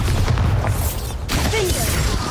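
A Bombarda blasting spell bursts in Hogwarts Legacy, a loud booming explosion that fills the short moment, with game noise and a voice briefly heard around it.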